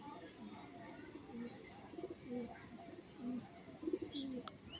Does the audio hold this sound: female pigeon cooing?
yes